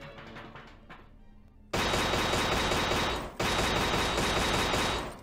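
Rapid bursts of automatic gunfire from a helicopter in a VR video game crackle in two long sustained volleys, loud and dense, with a quieter stretch of game sounds before them.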